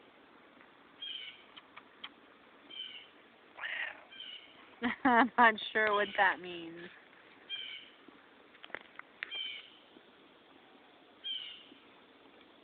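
A cat gives several short faint meows spread out between quiet stretches, with a louder cluster of calls near the middle, close by, while a person talks softly around them.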